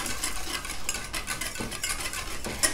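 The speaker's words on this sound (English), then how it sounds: "we're just going to continue to stir it until it starts to cool down" A freshly made upcycled lotion emulsion is stirred as it cools off the heat, giving close, repeated scraping and swishing strokes of a utensil against the container, fairly quiet, with no talking.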